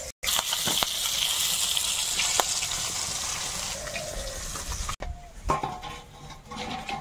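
Fish sizzling in hot oil in a home kitchen, a steady loud hiss of frying that runs continuously, breaks off briefly near the end, then resumes with more uneven crackle.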